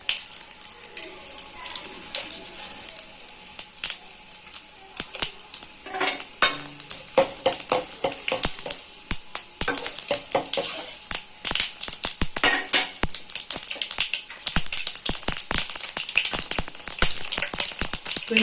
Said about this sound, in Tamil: அதோட கொஞ்சம் எண்ணெய் சேர்ந்து ஊற்றிக்கிறேன். கொஞ்சம் கடுகு, சீரகம், மிளகு,